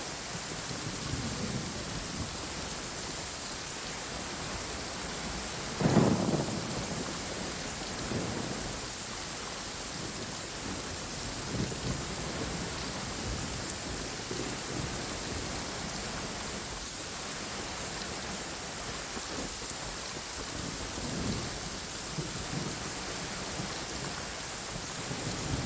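Steady rain pours in the Genshin Impact video game, with one deep thunder rumble early on and continuous hiss throughout; no voices.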